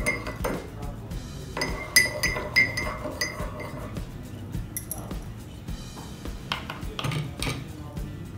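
A spoon clinks against a cup while lemon juice and honey are stirred into garlic tea, a close, bright run of irregular metallic taps and scrapes, loudest near the middle, with some speech around it.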